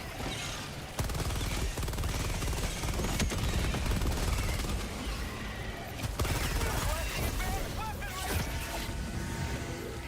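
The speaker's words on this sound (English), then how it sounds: "Calling in orbital strike! Firing orbital strike." An orbital strike in the shooter Helldivers 2 crashes down in dense, rapid explosive blasts, a loud sustained barrage for several seconds with chaotic crackling impacts and faint voices underneath.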